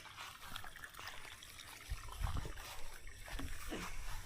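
Water flowing into a rice field, trickling and gurgling steadily at low level, with a few louder splashes and sloshes near the middle.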